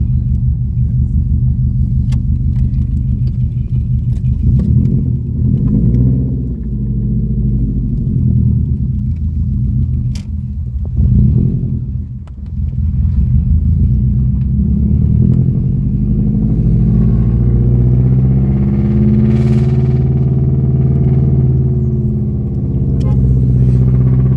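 A Subaru engine rumbles steadily up close, its low drone rising and swelling as the engine revs, with no talking.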